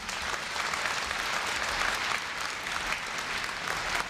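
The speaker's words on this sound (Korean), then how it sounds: "뜨거운 박수로 맞이해 주시기 바랍니다" At a Korea University freshman entrance ceremony, a large hall audience applauds to welcome the university president, giving dense, even, sustained clapping from many people at a steady moderate volume.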